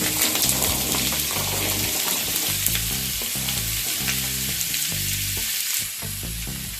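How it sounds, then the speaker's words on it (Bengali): Potato and papaya pieces fry in hot mustard oil in a kadai, a steady loud sizzle with rhythmic scraping and stirring strokes throughout. "ভালোভাবে তেল গরম হয়ে গেলে এর মধ্যে আলু আর পেঁপেগুলোকে দিয়ে দিচ্ছি"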